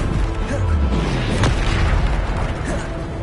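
Bombarda explosion spell blasts in the Hogwarts Legacy video game, a loud boom with a sharp burst near the middle over constant low rumbling battle noise.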